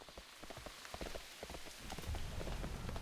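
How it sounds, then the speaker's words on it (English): Steady rain patters on a surface, a soft continuous hiss with scattered drops, heard alone without voices. "It's raining."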